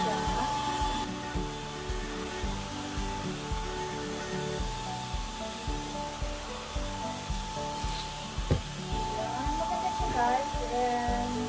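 A Samsung Jet wireless vacuum cleaner runs indoors with a steady motor whine and a regular pulsing thump, heard close with a brief knock near the end.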